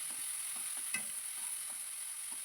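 Crushed kanthari chilies are stirred and sautéed in a pan, giving a faint soft sizzle with rhythmic scraping strokes of a spoon and one sharper clink, all quiet and without talk.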